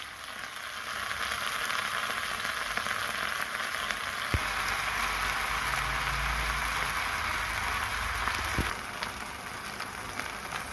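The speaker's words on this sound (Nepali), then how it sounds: "जिरा हाल्छु अनि त्यसपछि फ्राई गर्ने है।" Cumin seeds fry in hot oil with a loud, continuous close sizzle that runs the whole time, broken by a couple of sharp clicks.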